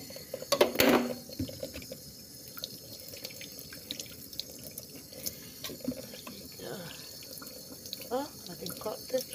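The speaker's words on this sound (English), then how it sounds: "Rinse it up one by one." Tap water runs steadily over goat meat pieces as they are rinsed one by one in a sink, with splashing and drips. A louder gush comes near the start, and a person talks through it.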